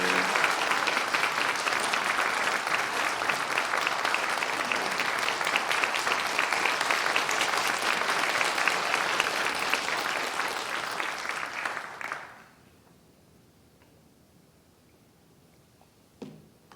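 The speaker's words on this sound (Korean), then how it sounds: "우리 박수로 환영하십시다" Church congregation applauding to welcome a pastor at a prayer school service, sustained dense clapping for about twelve seconds that stops abruptly, leaving quiet room tone and a brief knock near the end.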